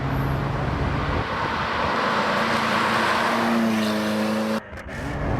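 A Ferrari F40 engine accelerates on a test drive at half throttle, a loud, close, steady roar with rising engine tones, then a brief dip near the end as the revs drop.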